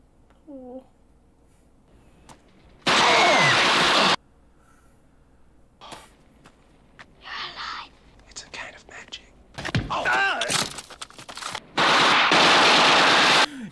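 Machine gun fire in a Highlander movie scene, with loud sustained bursts of automatic gunfire crackling between quieter moments of whispered voices and scattered shots, several bursts spread across the scene.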